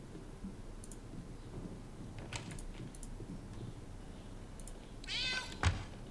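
A cat in the Divinity: Original Sin role-playing game lets out a single clear meow near the end, preceded by soft clicking of a keyboard and mouse and quiet game ambience.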